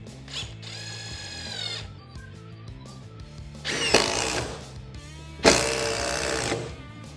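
A DeWalt DCF860 impact driver drives a screw at speed 3, a whining motor spin followed by two loud bursts of rapid rattling impacts, close and harsh, with no speech.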